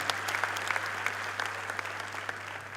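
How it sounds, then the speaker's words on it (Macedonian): An indoor audience applauds at a sports awards ceremony, dense, even clapping at moderate distance over a low steady hum. "Може аплауз, така."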